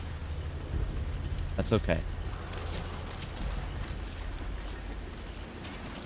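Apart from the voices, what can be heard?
rain in video game Metal Gear Solid V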